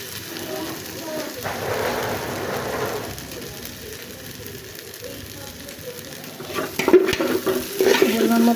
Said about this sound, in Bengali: পরিমাণ মতো লবণ দিয়ে ভালো করে নেবো, একটু ভেজে নেবো চালগুলোকে